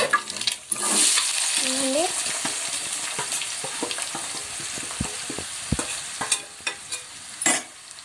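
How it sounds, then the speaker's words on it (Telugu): Sliced onions and green chilies frying in oil in a pan for an egg and potato curry, a constant sizzle broken by irregular clicks and scrapes of stirring, with a brief murmur of voice early on. "ఉల్లిపాయలు పచ్చిమిరపకాయలు అయితే బాగా ఫ్రై అవ్వాలి"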